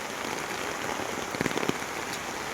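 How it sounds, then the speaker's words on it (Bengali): Heavy monsoon rain pours down steadily beside a wetland haor under a darkened sky, a dense, continuous wash of drops with a few louder splashes, no voices. "অনেক বৃষ্টি, অন্ধকার হয়ে বৃষ্টি পড়তেছে"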